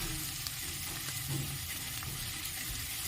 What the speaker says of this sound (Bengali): আর একটু লাল করে ভেজে নেব